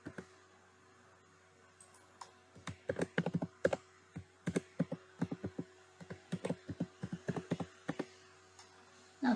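Keys on a computer keyboard tapped in quick uneven bursts, close and crisp, with short pauses between runs of keystrokes and no voices.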